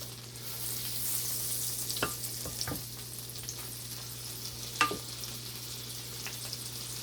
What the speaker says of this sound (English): Okay, so I'm gonna start adding the shrimps.